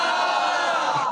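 A crowd at an Islamic quiz show chants religious slogans together in one loud, sustained collective shout close by.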